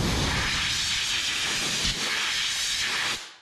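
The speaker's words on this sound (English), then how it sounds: "We'll just take our air compressor," An air compressor nozzle blows dust off sandpaper on a sander, a steady loud hiss of air lasting about three seconds before tapering off, with no talk.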